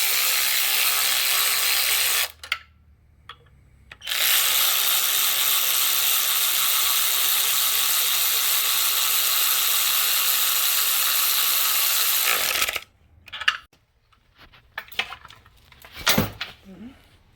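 A ratchet tightens the bolts and nuts on an engine bracket of a Mazda CX-9. The loud, steady mechanical whirring and clicking runs for several seconds, then breaks into shorter, scattered clacks and taps near the end.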